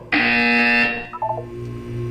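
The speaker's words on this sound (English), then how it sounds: "When you hear the buzzer, look up at the ceiling" A loud, steady electronic buzzer from the Portal test chamber sounds for about a second, then cuts off into a few brief chirping tones over a low hum.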